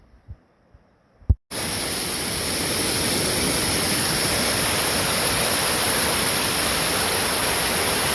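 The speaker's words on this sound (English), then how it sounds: "Now there is some rushing water." A rain-swollen stream rushes loudly and steadily on a cloudy, rainy day, a dense unbroken roar of water heard close by from a small bridge, starting abruptly after a few faint footsteps.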